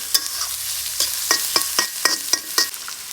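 Egg and green chilies frying in a little oil, a steady close sizzle broken by regular scraping strokes of a spatula against the pan, roughly one every quarter second.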